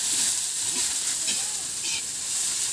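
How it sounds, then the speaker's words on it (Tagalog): Vegetables are sautéed in a pan for pansit bukid, giving a steady bright sizzle and hiss with a few faint stirring scrapes, close and continuous. "Maglalagay na ng mga gulay. Ginigisa muna guys."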